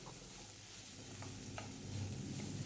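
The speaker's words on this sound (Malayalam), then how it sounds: "സവാള നന്നായിട്ടൊന്ന് വഴന്നിട്ടുണ്ട്" Onions and two sprigs of curry leaves sauté in a pan, giving a quiet, even sizzle. A few light scrapes from stirring sound over it, and nobody speaks.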